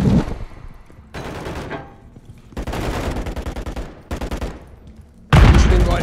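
Heavy gunfire in Call of Duty: Modern Warfare 3 on a Veteran campaign mission, with loud sustained machine-gun bursts that stop and restart several times, ending in an especially loud close volley.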